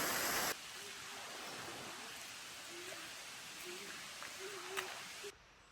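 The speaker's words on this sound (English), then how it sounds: "That's the waterfall." A waterfall in the Great Smoky Mountains gives off a steady broadband rush of falling water, even and continuous, with a voice speaking briefly over it.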